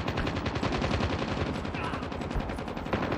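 Rapid automatic gunfire in Call of Duty Mobile during a Hardpoint match, a dense, evenly spaced stream of loud shots that runs unbroken throughout.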